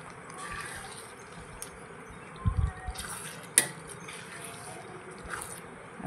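Shrimp and masala are stirred in a pot in a village-style shrimp recipe, with soft wet scraping and a few clinks of a spoon against the metal, faint and close, under a voice.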